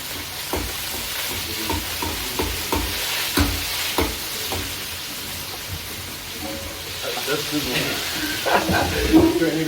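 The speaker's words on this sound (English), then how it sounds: "there is quite a big sizzle off the chicken" Chicken sizzles and crackles steadily in a hot pan, with scattered sharp pops and scraping stirs throughout, fairly close.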